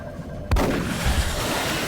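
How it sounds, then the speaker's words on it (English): A single sharp gunshot in the video game XCOM: Long War as the navigator takes the shot, a sudden loud report followed by a rumbling noisy tail. "The navigator moves up, takes the shot"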